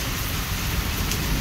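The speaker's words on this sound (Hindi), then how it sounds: "कितनी तेज बारिश हो रही है" Heavy rain pouring steadily in a dense, constant hiss, loud and close, with no voices over it.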